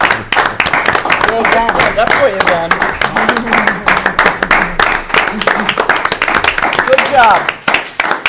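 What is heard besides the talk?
meeting attendees applauding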